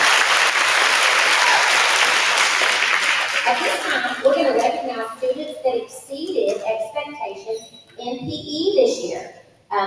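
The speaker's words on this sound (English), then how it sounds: "all these accelerated readers another round of applause" Loud sustained applause from a crowd at a kindergarten awards program fills the first few seconds, then fades into scattered voices and children talking.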